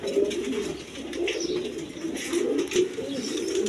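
A pair of light-coloured racer pigeons coo quietly nearby, a low continuous burbling with small overlapping calls and no talk.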